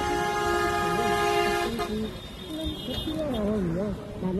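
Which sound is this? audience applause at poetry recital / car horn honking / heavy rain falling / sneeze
car horn honking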